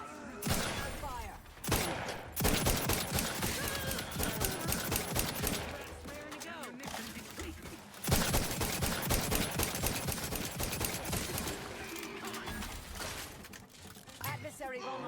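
Rapid volleys of gunfire in the video game Outer Worlds 2, during a firefight at the Cloister. Loud bursts of automatic shots come in waves with brief gaps between them, and a few voices are mixed in.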